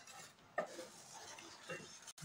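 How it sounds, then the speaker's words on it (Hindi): A spoon stirs milk powder into a custard peda mixture, giving soft scraping and clinks against the pan, fairly faint and close, with a couple of sharper taps. "अच्छे से मिक्स कर लेंगे हम इसको"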